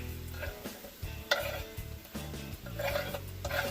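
Onions cooking in a pan while a utensil stirs them, gentle sizzle under repeated scraping strokes and light clinks against the pan, close and fairly quiet.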